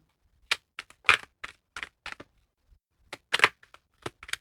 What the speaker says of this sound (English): Shuffle that again.